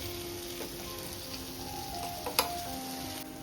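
Creek fish in kharpun-fry style sizzles steadily in hot oil in a pan, a continuous close frying hiss with a brief sharper crackle partway through.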